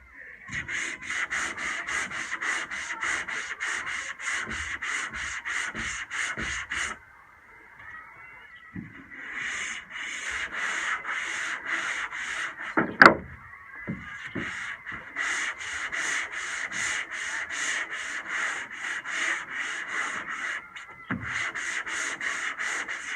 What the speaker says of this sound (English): since I started sanding this